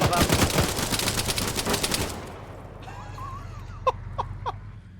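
Machine gun suppressing fire in Arma 3, a rapid close burst of automatic shots for about two seconds, then quieter distant single shots and cracks trailing off.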